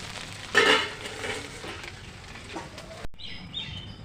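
Rice kurkure snacks made from leftover cooked rice fry in oil, a soft continuous sizzle close by with a louder burst near the start and faint bird chirps in the background.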